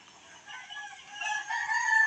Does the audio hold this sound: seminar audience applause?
no